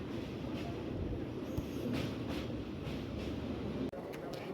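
Train crossing the Barakar bridge, heard as a steady loud rumble of wheels on the rails with broadband roar throughout, a sharp clunk near the end and faint rattles over it.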